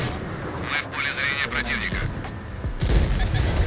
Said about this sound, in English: That was a really bad shot by me.